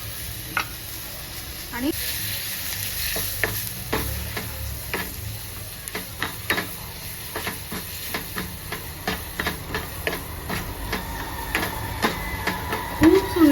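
Tomatoes and spices sizzle and fry in a pan of hot garlic and curry leaves, a steady hiss broken by frequent sharp stirring clinks and scrapes, with someone talking over it.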